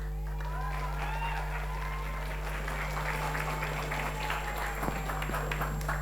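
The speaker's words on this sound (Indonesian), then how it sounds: "Sekali lagi boleh dengar tepuk tangannya, semangatnya mana?" A studio audience at a televised school quiz competition claps and cheers, with busy, moderately loud applause and crowd noise over a steady low electrical hum.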